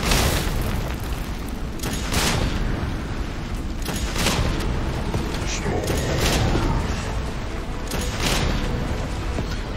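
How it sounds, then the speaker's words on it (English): Rockets fired at a boss in the video game Resident Evil 3, with repeated heavy booming blasts and explosions recurring every couple of seconds over a dense, loud game soundtrack. "So you just want to keep firing rockets at him."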